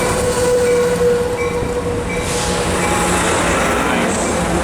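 An Amtrak passenger train passes at Cajon, its steady rolling rumble, clicking wheels and faint squeal continuing throughout, with the roar peaking and washing past midway.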